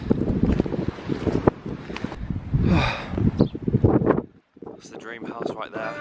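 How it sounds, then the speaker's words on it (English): Strong gusts of outdoor wind buffet the microphone on a breezy coastal outing, rising and falling in loud rumbling bursts, with people talking over it. "It's windy though."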